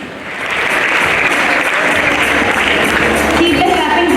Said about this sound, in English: Keep the clapping going, students.